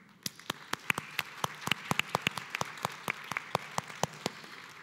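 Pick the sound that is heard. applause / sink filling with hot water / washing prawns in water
applause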